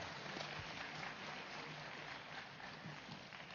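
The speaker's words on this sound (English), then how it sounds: "Let's give a big round of applause for that." An audience at a morning meditation event applauds, a faint but steady, dense patter of clapping that holds evenly from start to finish, heard from a distance.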